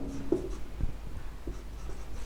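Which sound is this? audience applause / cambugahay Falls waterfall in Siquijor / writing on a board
writing on a board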